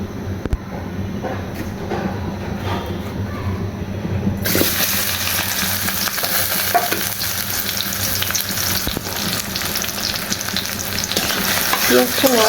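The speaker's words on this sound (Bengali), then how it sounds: "তেলটা গরম হয়ে গেছে, এখন আমরা পেঁয়াজ কুচি দিয়ে দিব।" Chopped onions hit hot mustard oil for bhuna khichuri, and a steady, loud, close sizzle swells into a dense bright hiss midway that carries on unbroken, with no voices.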